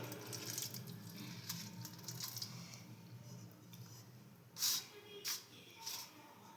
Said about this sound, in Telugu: ఇప్పుడు దీనికి కొంచెం మనం హాట్ వాటర్ యాడ్ చేసుకుందాం